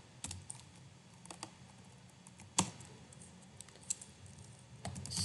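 Code is typed on a computer keyboard in quiet, irregular bursts of soft key clicks, with an occasional sharper tap, close by against a low background hum.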